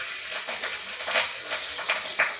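Tomatoes hit hot oil in a pan of Bengali fish masala with whole green chillies, giving a steady, close sizzle with soft stirring scrapes and a few brighter crackling bursts.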